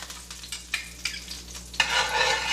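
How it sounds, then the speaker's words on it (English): Bacon grease sizzles in a pot with intermittent stirring scrapes, then a louder, sustained hiss as more food hits the hot surface. "you hear that nice sizzle in that pot"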